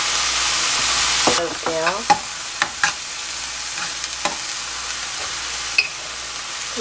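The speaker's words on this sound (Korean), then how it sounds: "이렇게 해서 한번 볶아주고요." Mapo tofu sauce with oyster sauce and doenjang is stir-fried in a pan: a hiss that cuts off abruptly, then scraping stirs and short sizzling bursts at irregular intervals. A voice speaks briefly.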